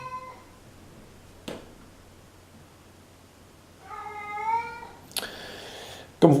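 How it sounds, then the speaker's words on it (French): Bilbo the cat meows indoors, one drawn-out meow at close range in a quiet room, with brief clicks and rustles around it. "Bilbo, c'est le chat."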